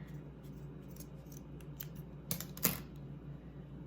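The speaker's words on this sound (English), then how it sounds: "So we'll just cut this right here." Scissors snip through a doll's hair just above an elastic band while a Dollar Tree gnome craft is being made, giving two quick, close cuts near the end over a steady low room hum.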